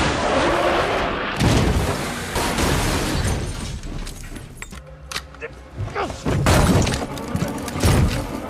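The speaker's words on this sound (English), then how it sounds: "his back tire blows out and the car crashes." A car's back tire blows out and the car crashes during a tense mountain escape just below 8,000 feet in the film Elevation, with loud bursts, shattering impacts and booming crashes over a dense, continuous roar.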